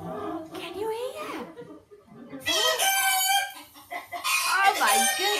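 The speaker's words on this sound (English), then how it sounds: "Look, it was a chicken." A chicken clucks and crows in a lively burst after a short pause, the calls loud and close, set within a children's music class game with an adult speaking before and around the sounds.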